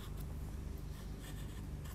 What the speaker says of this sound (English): Using the corner of the Naples yellow, I'm just going to run that over the top, or just into the pink lines a bit.